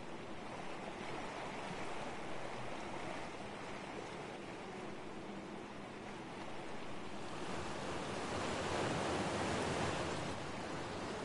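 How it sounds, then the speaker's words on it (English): A video game waterfall tumbles into a pool as a soft, steady broadband rush heard from a distance. It stays faint throughout and swells slightly louder toward the end. "Waterfall pool."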